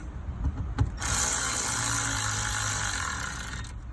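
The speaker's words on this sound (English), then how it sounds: "And I have a nice little electric ratchet for that." An electric ratchet runs in one steady, loud whir for a few seconds while driving screws into a 2013 Ford F-150 dashboard during radio work; a couple of faint knocks come before it starts.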